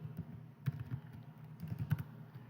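Quiet keystrokes on a computer keyboard as a command is typed, a scattered run of soft clicks with a few quick bursts, close and with no talking.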